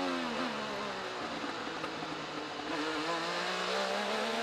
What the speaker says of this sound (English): This is the red car of Will Power.